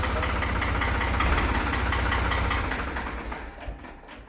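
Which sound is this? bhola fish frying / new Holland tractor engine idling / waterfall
new Holland tractor engine idling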